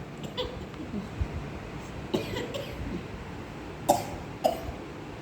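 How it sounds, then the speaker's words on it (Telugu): A few short coughs, some spaced apart and two close together near the end, over quiet room noise. "ఎందుకు దగ్గు వస్తుంది?"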